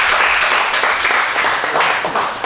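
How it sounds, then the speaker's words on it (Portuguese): Sustained applause from an audience at a lecture on hip hop's contribution to peace, dense steady clapping filling the room for the whole stretch. "merece uma salva de palmas"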